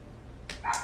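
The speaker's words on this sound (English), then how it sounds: "Excuse my dog" A pet dog barks a couple of times indoors, two short, fairly close yaps in quick succession over a quiet room background, with no talking.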